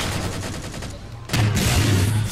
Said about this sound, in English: Incendiary cannon. This will do some huge damage.